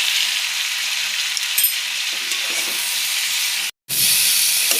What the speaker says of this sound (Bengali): পুরো মশলা দিয়ে 1 মিনিট ভেজে নিলাম।